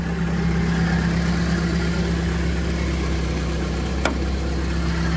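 A 1991 Suzuki Katana 4x4 engine runs steadily nearby, a smooth continuous idle-to-rev drone with a brief faint click partway through, no talk.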